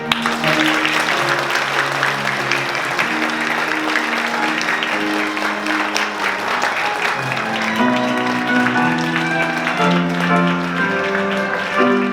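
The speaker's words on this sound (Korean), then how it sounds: "다시 한번 박수 부탁드리겠습니다." Guests at a wedding ceremony in a convention center hall applaud steadily for about twelve seconds, while music plays in the background and a voice can be heard faintly under the clapping.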